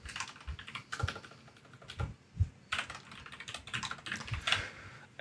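An email address is typed on a computer keyboard, a quick, uneven run of close, crisp key clicks with brief pauses, no voices.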